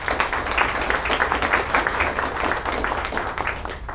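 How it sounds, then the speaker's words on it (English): Audience applause at a ceremony, thanking supporters, a dense steady patter of many hands clapping throughout at moderate volume. "Please give them a round of applause for their support."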